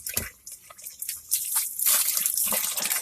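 Water rushes and gurgles down a freshly unblocked shower drain after roots and soap buildup were cleared, with a steady, fairly close splashing flow that swells and stays loud toward the end.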